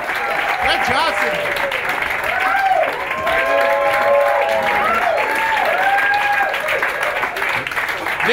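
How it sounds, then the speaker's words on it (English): A Brooklyn stand-up comedy crowd gives a comedian a sustained round of applause, close and steady, while someone talks over the clapping. "Give him a big round of applause."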